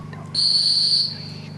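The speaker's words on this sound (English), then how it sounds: "All right, the whistle starts to blow, and the time continues to click off" A single loud, steady high-pitched whistle blast lasting under a second, over a low humming background.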